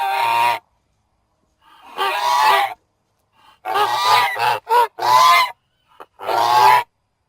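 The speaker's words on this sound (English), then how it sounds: "Goose." Goose honking comes in loud, close, raspy calls: a long call, a pause, then a cluster of several honks of varying length, one short squawk, and a final drawn-out honk.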